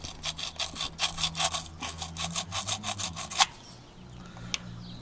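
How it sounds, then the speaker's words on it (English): Sandpaper rubs briskly back and forth inside the distributor cap of an abandoned tractor, a rapid run of rough scraping strokes close by that stops, followed by one faint click. "Stick some sandpaper in here."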